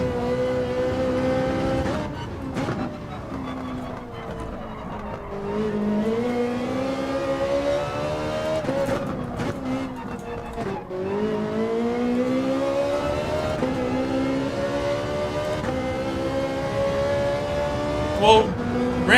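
A Ferrari 458 Gr.3 race car in Gran Turismo 7 revs hard on track, its engine note climbing and dropping through repeated gear changes and corners, with a voice speaking over the engine.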